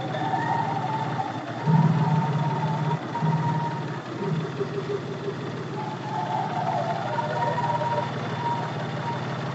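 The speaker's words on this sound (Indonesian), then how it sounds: "Halus ya bunyi mesinnya ya." Idling engine of a 1987 Daihatsu Charade G100 CX, a steady, smooth, low hum that runs throughout under brief bits of nearby talk.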